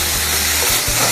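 Potatoes with paprika and shishito peppers stir-fry in a pan, giving a loud, steady, close sizzle with continuous crackling and no talking.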